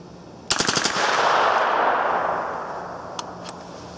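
A 9mm AR-15 rifle fires five rounds from a 10-round magazine in a fast, loud, close string of sharp cracks. A long rolling echo follows, then two fainter clicks.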